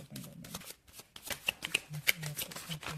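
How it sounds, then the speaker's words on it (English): Tarot cards shuffled by hand in a loose, messy way, giving a run of close riffling and slapping bursts with brief pauses, while a voice hums and talks quietly underneath. "This is messy. Like this is really messy. I'm normally not a messy shuffler."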